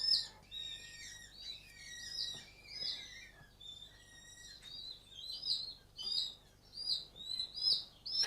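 A week-old owl chick calls from a container, with repeated thin, high chirping and wheezing cries in bursts, fairly close and clear over a quiet background.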